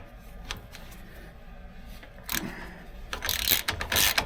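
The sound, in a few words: bolts being undone to remove a truck control arm bracket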